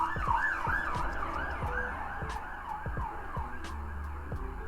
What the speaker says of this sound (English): fire engine just absolutely flew past with the sirens going